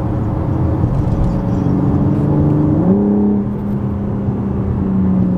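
A BMW G80 M4 Competition drives in its most aggressive transmission mode, its engine a steady loud hum from inside the cabin, with a smooth rise in pitch midway as it picks up speed over constant road roar.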